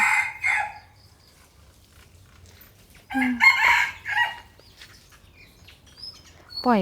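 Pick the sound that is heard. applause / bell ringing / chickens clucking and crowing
chickens clucking and crowing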